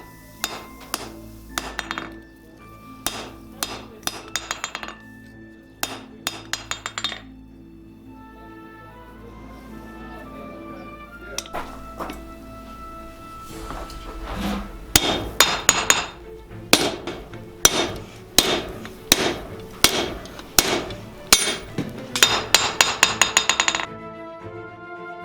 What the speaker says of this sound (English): So I alternate between hitting it on the top and then straightening it out